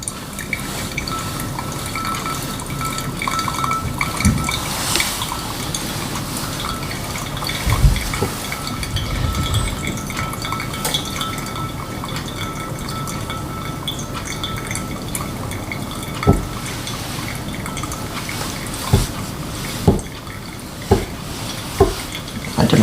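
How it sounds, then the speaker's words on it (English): Water trickles and pours steadily over ground Ethiopian coffee in a V60 pour-over dripper, a soft continuous flow with occasional drips and light clinks near the end. "I did my third pour, now we're going in for a fourth."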